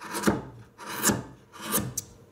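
A carving tool shaves wood along the grain for a carved carnival mask. Three rasping, scraping strokes come at an even pace, close and fairly soft, with no voices.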